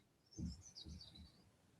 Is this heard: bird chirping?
yes